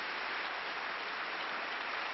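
Dense, even applause from a tennis crowd at a 1987 Zurich match, sustained for a couple of seconds with no voices standing out.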